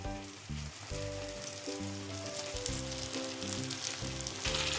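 Steady, loud sizzling of deboned fish pieces dropped onto hot, oily masala in a pan, crackling continuously throughout with a low droning hum underneath and no voices.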